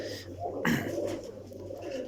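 Pigeons at a pigeon seller's lot give soft, low coos over a steady hum, with a louder burst partway through and no talk.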